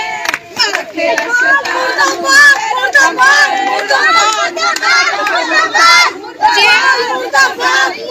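A crowd of voices chants 'murdabad' slogans against a pastor in loud, repeated rhythmic bursts with short gaps between them, with a few hand claps mixed in.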